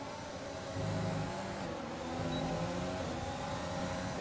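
Mercedes and McLaren Formula 1 cars in F1 2020 race in a close battle, their high-pitched engines droning together continuously at steady loudness, with no talk over them.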